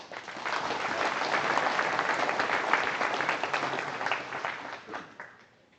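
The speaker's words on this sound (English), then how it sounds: "let's give those guys a hand." Audience applause at a winter wheat grower meeting honoring yield contest winners, a steady wash of many hands clapping in a hall that swells, holds for several seconds and then thins out toward the end.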